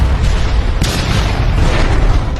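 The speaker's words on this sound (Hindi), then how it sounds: "अगले ही पल पंखा जमीन से जा टकराया और एक भयानक विस्फोट" A huge explosion in an action movie as a falling fan hits the ground: a dense, loud, low booming roar that fills the whole short stretch with a sharper burst near the start.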